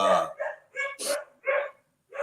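Two dogs bark in quick bursts, five or six sharp barks with short pauses, fairly loud and close rather than distant.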